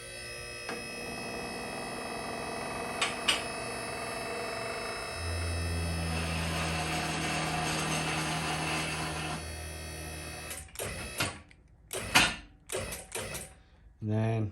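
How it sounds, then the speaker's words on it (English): A QuickJack car lift raises a car to its second jack point: a steady mechanical hum and whine for several seconds, then a sequence of sharp clanks and clicks as it stops. "we can go ahead and lift it all the way up to the second jack point"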